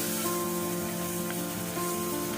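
Garlic, ginger and onion paste frying together in a pan, giving a steady close sizzle that holds evenly throughout without a break, with a faint hum underneath and no voices.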